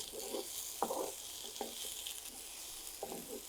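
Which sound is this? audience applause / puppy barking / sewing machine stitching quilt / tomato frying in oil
tomato frying in oil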